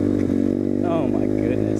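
A big motorcycle engine runs close by with a steady, rough idle and a brief rev in the middle, while people talk over it.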